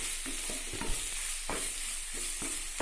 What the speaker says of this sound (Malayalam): അതുകൂടി ഇത് ചേർത്ത് ഒന്ന് മിക്സ് ചെയ്ത് കൊടുക്കണം.